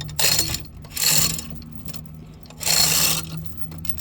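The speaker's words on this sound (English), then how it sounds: "you just kind of crank it up like so, and it'll start pulling that track in and loosening it up" The track adjuster on a Caterpillar 299D compact track loader is cranked by hand. It gives three bursts of close mechanical ratcheting, with quieter mechanical noise between them and no speech.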